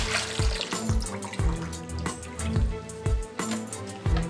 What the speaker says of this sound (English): now you're going to empty out the water from the canister.